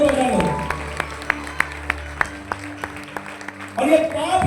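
A Christmas church gathering: slow, evenly spaced claps ring out one after another, sparse and fairly faint, with a voice speaking before and after them.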